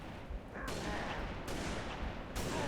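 Plasma launcher impacts in Halo: Reach, three sharp, loud blasts spaced roughly a second apart over a dense, noisy combat backdrop.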